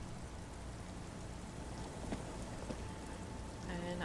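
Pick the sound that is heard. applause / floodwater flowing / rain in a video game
rain in a video game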